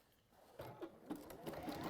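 A sewing machine stitches along a seam of seaside-print fabric bunting, a quiet, close run of rapid needle clatter that steadily builds, with no talk.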